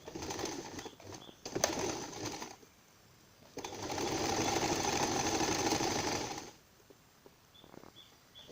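Sewing machine stitching khimar fabric, with short bursts of running stitches early on and then a longer continuous whirring run of about three seconds, close and moderately quiet in an otherwise calm room.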